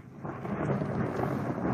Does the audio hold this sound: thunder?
yes